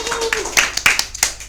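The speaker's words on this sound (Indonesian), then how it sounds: "tepuk tangan dulu untuk kita semua" A handful of sharp, separate hand claps, close and loud, with a voice trailing off just before them at a casual indoor gathering.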